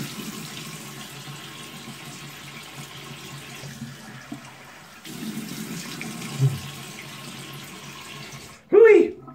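Cold water running from a bathroom tap into a sink after shaving, a steady stream with splashing as it is brought to the face, ending in a short loud vocal exclamation.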